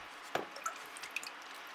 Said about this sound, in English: And very carefully just water them this way.